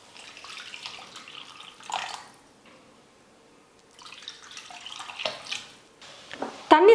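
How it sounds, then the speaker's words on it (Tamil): Water is poured into cooked tomatoes in a pot while making tomato soup, coming in soft uneven splashes and trickles with short gaps, close and fairly quiet, ending in a louder splash. "1/2 லிட்டர் தண்ணி நான் வந்து சேர்த்துக்க போகிறேன்."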